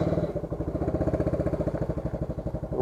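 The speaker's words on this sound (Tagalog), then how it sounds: "pinapainit ko muna yung makina" A motorcycle engine idles as it warms up before a ride, a steady rapid chugging pulse close by and fairly loud, running alone without speech.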